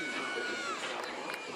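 Softball fans, including Mississippi State supporters, cheer and shout steadily at a game in Chattanooga, Tennessee, a continuous wash of crowd noise with scattered higher voices throughout.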